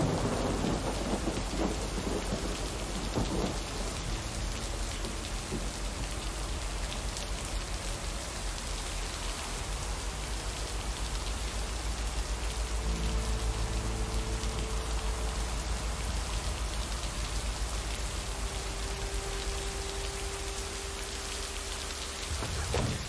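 Heavy rain pounds steadily on a car while it is being driven, with rumbles of thunder rolling underneath, and a low tonal drone and engine-like hum running through the steady downpour.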